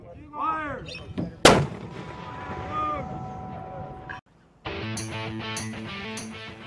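Marine artillery gun firing during a training exercise in the Yausubetsu training area, one sharp, heavy blast with a long rumbling decay, followed by a brief silence and a steady tonal whine, with voices calling commands beforehand.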